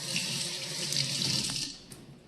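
Water from a kitchen tap runs steadily into a sink to wet hands while making sourdough bread, giving a close, continuous splashing that tapers off at the end.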